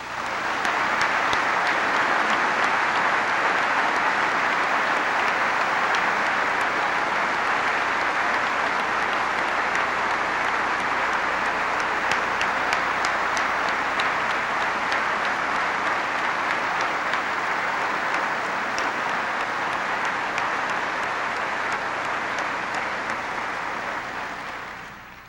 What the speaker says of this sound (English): please join me in a well-deserved round of applause to thank them for their extraordinary excellence in service to our country